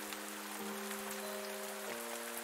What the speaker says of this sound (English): Oh man, and now it's raining.